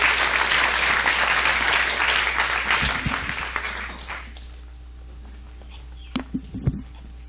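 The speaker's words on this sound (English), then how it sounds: "Let's all give him a big round of applause." An evening audience applauds a speaker being introduced, dense clapping for about four seconds that then fades out, leaving a quiet room with a few faint knocks and a low hum.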